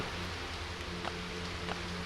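Heavy rain pours steadily in the Last Day on Earth video game at night, a dense, constant hiss with faint droplet ticks over a low hum, no talking.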